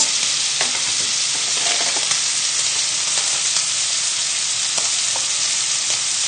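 Chicken livers frying in hot butter in a pan, a steady close crackling sizzle with occasional pops and stirring, no talk.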